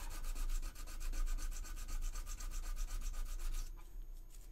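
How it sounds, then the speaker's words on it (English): Steady, close rhythmic rasping of sandpaper smoothing a cast resin sculpture piece, a Xenomorph Queen versus Predator model, continuing in even back-and-forth strokes before easing off near the end. "So now we're gonna sand it smooth."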